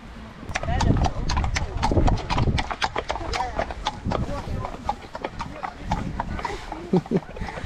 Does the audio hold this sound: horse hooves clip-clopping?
yes